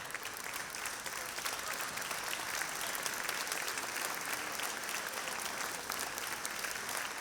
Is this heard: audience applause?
yes